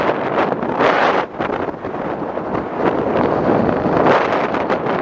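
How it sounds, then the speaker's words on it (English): Strong, steady wind on a river and canal walk in Oxford buffets the microphone in a continuous loud roar with gusty surges, no voices present. "It's getting really windy now."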